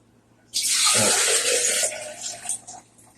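Water gushes suddenly from a tap, a loud close rush that runs steadily for over a second, then tapers and splashes as it slows.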